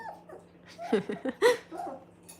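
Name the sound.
puppy barking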